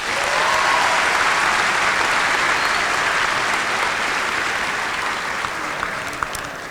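Sustained audience applause fills a high school graduation ceremony, a dense steady roar of many hands clapping that stays loud throughout and thins slightly near the end.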